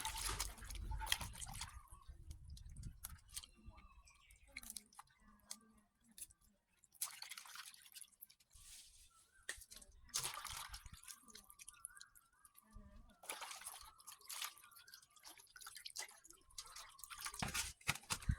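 Pork leg and pickled mustard greens are washed in water in a Thai kitchen, giving intermittent close splashing, dripping and squishing sounds with short pauses, and no talking.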